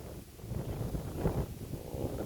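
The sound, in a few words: wind blowing into microphone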